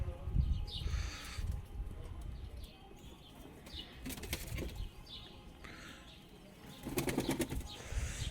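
White pigeons flapping their wings in several bursts, with soft cooing and chirps in the background; busy, close flutters at the start and again near the end.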